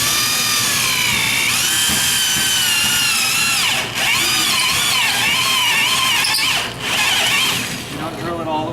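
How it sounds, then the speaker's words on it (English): Power drill boring a roughly three-quarter-inch-deep pilot hole into metal, a steady loud whine with wavering pitch running continuously, briefly dipping twice, with a voice talking over it. "we're going to go ahead and drill the pilot hole"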